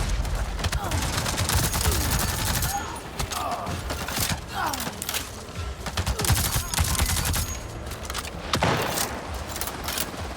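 Gunfire from a gun in Avatar Frontiers of Pandora, a dense run of sharp, loud shots and bursts over a constant game soundscape, with a voice speaking intermittently.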